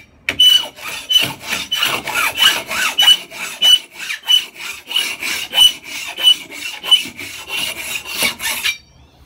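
Hand scraping smooths a wooden surface and takes down a high point in a rapid, even run of loud raspy strokes, about two per second, close up with no talking.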